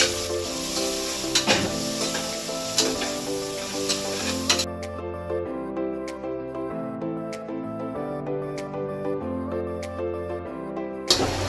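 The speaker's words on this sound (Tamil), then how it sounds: "இந்த பச்சை வெங்காயம் இருக்கான்ல, நல்லா வதக்கணும்" Onions sauté in a pan for chicken biryani, a bright sizzle at first that softens midway, with regular ticking clicks and occasional spoon scrapes against the pan.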